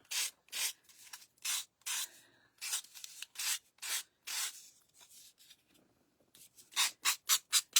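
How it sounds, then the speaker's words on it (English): Rhythmic strokes of a Gator hand sander rubbing along the edges of wood shims, sharp rasping bursts in uneven runs, quickening into a fast series of passes at the end, close and alone without talk. "I took my sander, my Gator sander, and I just went around the edges just to smooth any points"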